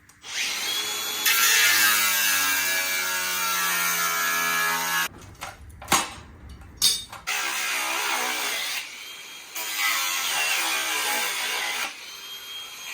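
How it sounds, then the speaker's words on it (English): Power tool cutting through badly rusted bolts on the mud flap of a rotted-out V8 Holden HQ ute, a loud steady whine broken by a pause with a few sharp clanks, then resuming in two more long bursts. "the bolts are seen better days, so we're just going to cut them off"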